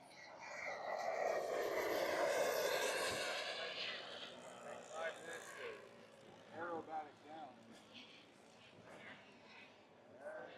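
A model DC-3 airplane with twin three-cylinder radial engines drones overhead at an RC flying event, swelling loud then fading into the distance while a voice talks.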